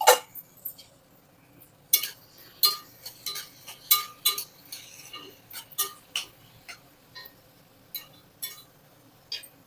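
A spoon stirs bottle gourd and green chilli chutney in a pan, making sharp, irregular metallic clinks and scrapes against the pan, fairly close, with no talking.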